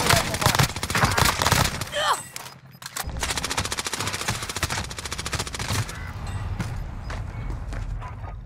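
Rapid bursts of gunfire crackle from a Call of Duty Warzone match on Rebirth Island, with automatic volleys, a brief lull, then more shots, all under excited voices of players talking.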